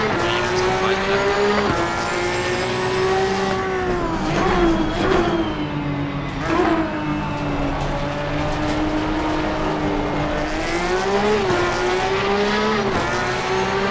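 Porsche 911 GT3 Cup race car on track at Donington Park, its loud engine revving and shifting gears continuously, with the pitch climbing and dropping and tires squealing through the corners.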